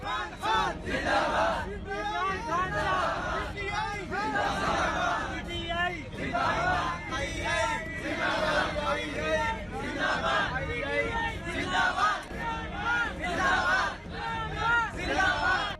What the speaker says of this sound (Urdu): قیدی خوشی سے نہال ہو گئے اور جہاز ہی میں عمران خان کے حق میں نعرے لگا دیے